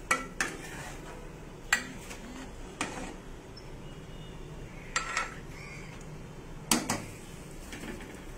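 A spoon stirring chicken korma with fresh coriander in a pot, making several sharp metallic scrapes and clinks at uneven intervals over a quiet background.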